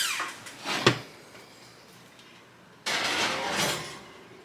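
An oven door is opened to slide in a cast iron pan, with a sharp clunk and rattle near the start, a quiet gap, then a sustained rushing, scraping burst toward the end, close by with no talk.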